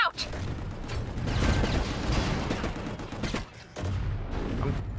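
Video game gunfire, dense rapid bursts of shots with mechanical clatter, loud and close, pausing briefly before another volley.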